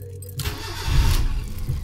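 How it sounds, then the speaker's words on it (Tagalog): A car engine cranks briefly and catches, then settles into a close, loud idle rumble, all within a couple of seconds after a remote starter install. "umaandar na yung ating makina"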